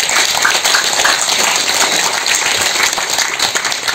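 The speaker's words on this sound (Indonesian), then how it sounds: "Sekali lagi kita beri tepuk tangan yang meriah untuk para tuan tanah" Crowd applause for the landowners at a public ceremony handing over new house keys, dense loud clapping from many people sustained for several seconds.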